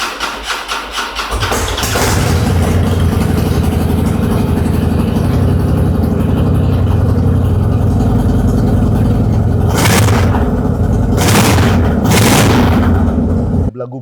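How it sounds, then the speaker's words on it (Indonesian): A deep, loud Harley-Davidson Road Glide engine with a stock exhaust rumbles steadily at close range after starting up, with a couple of throttle blips pushing the throbbing growl louder. "anak-anak Harley itu memang suka banget sama suara jedak-jeduknya Harley Davidson"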